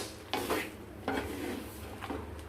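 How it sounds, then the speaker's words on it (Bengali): Chicken with spices is stirred in a clay pot, three distinct scraping strokes of a utensil against the pot over a low sizzle, close and fairly quiet. "দিয়ে এটাকে আমরা ভালো মতো করে নাড়াচাড়া করে দেব"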